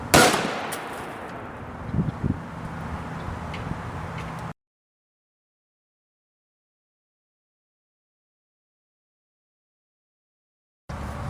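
A Hornady TAP 5.56 55-grain round is fired from a 7.5-inch rifle barrel into ballistic gel, one loud sharp report at the very start that fades into noisy ambience before an abrupt cut to silence.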